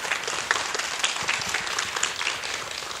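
Audience applauding at a children's composer results concert by the New York Philharmonic in Tongyeong, a steady dense clapping from a large crowd that carries on for the whole stretch.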